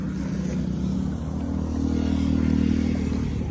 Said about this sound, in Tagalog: Ay, may mga motor lang.